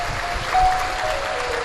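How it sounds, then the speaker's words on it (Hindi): Applause from a religious gathering welcoming a saint, a short burst of many hands clapping at moderate volume, with a faint tonal whine running underneath. "हमारे बीच में संत महाराज पधारे, एक बार जोरदार ताली बजाकर स्वागत कर।"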